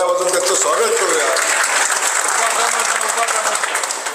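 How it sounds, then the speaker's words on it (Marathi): A crowd at a political party gathering claps loudly and continuously, greeting new members as they join; dense applause fills the space throughout, with a voice carrying over it. "एकदा सगळ्यांनी जोरदार टाळ्या वाजवून त्यांचं स्वागत करूया"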